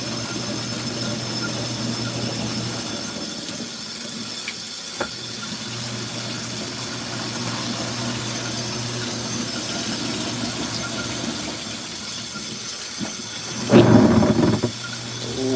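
An LG ThinQ MEGA washer runs the final rinse of a whites cycle with bedding, giving a steady low hum and water-filling wash noise, with a louder splashing surge near the end.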